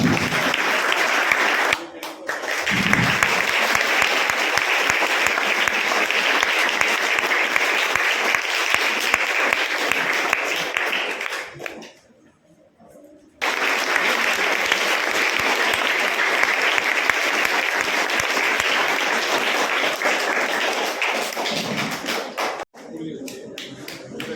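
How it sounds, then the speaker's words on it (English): A book launch audience applauds loudly in two long sustained rounds separated by a brief pause, with a voice speaking around the clapping. "Give a huge round of applause."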